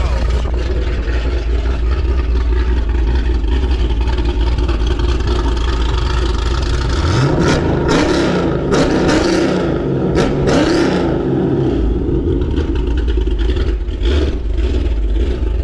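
Supercharged 426 Hemi engine in a Dodge Challenger, idling loudly, then revving hard several times in the middle with sharp bursts and a falling return to a rumbling idle.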